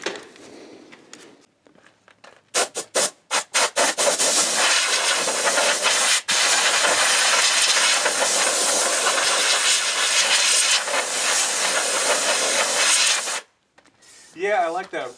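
Rust-Oleum low gloss black spray paint hisses from an aerosol can onto a vintage motorcycle seat part, with a few short bursts and then one long continuous loud spray, close up.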